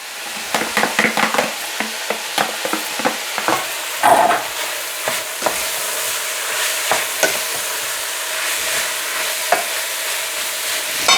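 Onions and bacon fry in a pan, a steady loud sizzle with repeated sharp scraping and clacking of a utensil stirring throughout, no talk.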